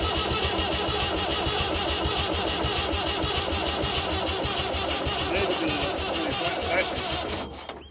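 An old tractor's diesel engine cranks over sluggishly on a weak battery, a steady, loud mechanical churning that runs for about seven seconds before cutting out, with voices faintly present.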